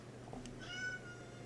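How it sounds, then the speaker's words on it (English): Domestic cat gives a single short meow, faint and close in a quiet room, with no talk. "My cat agrees"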